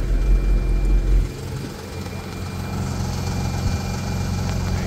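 Porsche 911 GT3 idling as its front axle lifter lowers, a low steady engine rumble with a heavier drone at the start that drops away after about a second.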